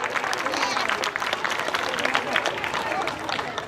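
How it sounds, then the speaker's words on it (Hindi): Enthusiastic crowd applause at an Azadpur Ramlila stage event, loud sustained clapping mixed with crowd noise and a voice talking over it. "जोरदार ताली से स्वागत। बड़े जोरदार तालियां।"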